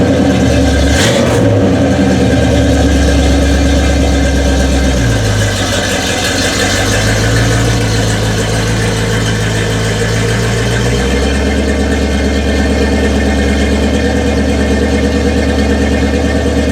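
A 1974 Pontiac Grand Am V8 runs steadily close by, idling with a low rumble and a brief rev near the start, its tone dipping and rising slightly for the rest of the run.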